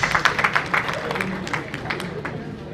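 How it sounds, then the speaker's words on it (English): An audience at a public lecture and anniversary event in a Benin City event centre gives a round of applause. Crisp, fairly close claps start strong, then thin out and fade, with a faint crowd murmur underneath. "A round of applause for him, please."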